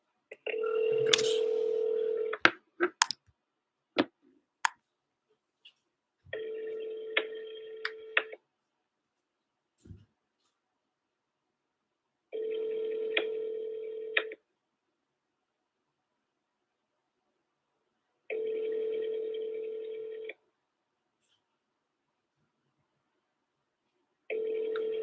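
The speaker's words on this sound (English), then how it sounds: "Let me dial one more time." A desk phone dials out during a cold call, starting with a burst of tone and a few quick keypress beeps, then a repeating ringback tone sounding in evenly spaced two-second bursts with silence between.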